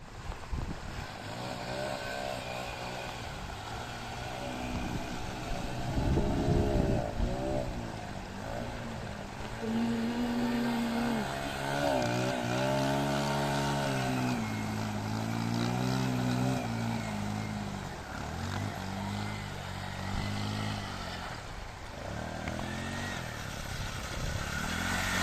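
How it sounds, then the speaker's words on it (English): A Yamaha XTZ 125 motorcycle engine labours and revs steadily while crossing a river with a strong current in the Philippines, a loud, continuous droning hum that rises and falls with the throttle. "we go walk first and then I try to pass it on a motorcycle"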